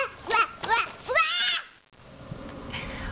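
A young child imitates a cat, giving three drawn-out, rising-and-falling meows close by, followed by quiet room noise.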